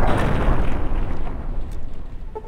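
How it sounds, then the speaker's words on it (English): Dynamite blast in Fallout: New Vegas, a loud, deep rumbling explosion that fills the scene and slowly decays into a low roar. "time to get the dynamite out"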